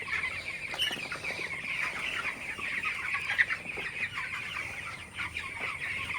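A shed full of 17-day-old broiler chicks gives off a continuous, fairly soft chorus of clucks and chirps that overlap each other, with no speech.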